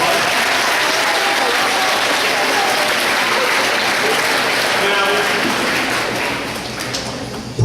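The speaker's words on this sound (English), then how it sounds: "Let's give her a big round of applause." An audience at a school event welcoming NY Jets quarterback Bryce Petty breaks into loud, sustained applause that fills the room for about seven seconds before tapering off.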